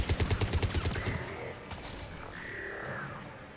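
Rapid automatic gunfire in Mass Effect 3 starts as a quick, evenly spaced burst of close, punchy shots, then stops and leaves a rumbling combat background with faint tonal game sounds.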